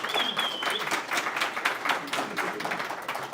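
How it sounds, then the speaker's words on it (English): Audience at a tech meetup in Columbus, Ohio applauding after a talk, a sustained mid-level round of clapping with a brief faint whistle near the start. "One more round of applause for Jim Kittle from The Ohio State University"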